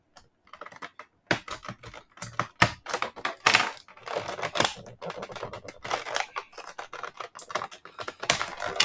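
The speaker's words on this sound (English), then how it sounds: "So we're just going to cut this end." Scissors snip through plastic blister packaging on a carded GI Joe Classified Retro Cobra Snow Serpent action figure, a close run of dense, crisp clicks and crackles that carries on steadily for several seconds with no talking.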